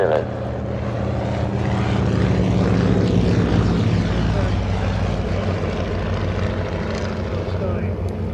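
A 1939-designed UPF-7 biplane drones overhead at an air show, its propeller engine a loud, steady, continuous roar throughout, with a commentator's voice talking over it.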